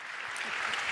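Audience applause in a large hall at the French mayors' congress, a brief steady burst of many hands clapping.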